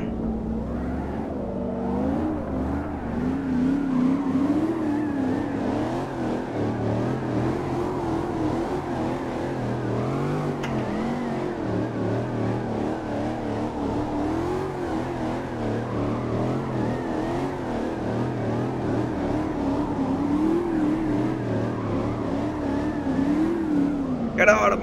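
Camaro SS in City Car Driving, its engine humming and revving with wavering pitch as the car spins around, steady and close throughout, with a voice talking over it.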